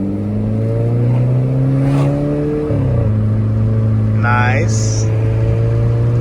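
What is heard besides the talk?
Volkswagen car engine accelerating while driving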